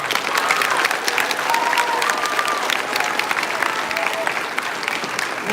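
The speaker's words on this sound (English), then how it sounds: "Round of applause, please." Sustained applause from a middle school graduation audience, dense and loud clapping from a large crowd with faint voices mixed in throughout.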